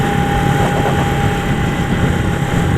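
A small older cafe motorcycle's engine drones steadily and loudly, a constant low rumble with a humming tone and wind noise, continuous throughout with no talking.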